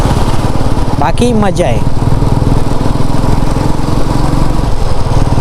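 Motorcycle or scooter engine while riding, a loud, steady buzzing drone close to the rider, with someone speaking briefly over it near the start.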